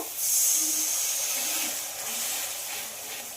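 Spices for aloo dum hiss and steam loudly in a hot pan right after a little water goes in, a strong, steady sizzle with no talk.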